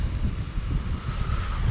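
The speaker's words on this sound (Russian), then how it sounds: "Ветер целый день вот так вот дует." Strong wind on the Black Sea shore at Yevpatoria, Crimea, buffets the microphone in a steady, low roar, with a faint wash of surf underneath.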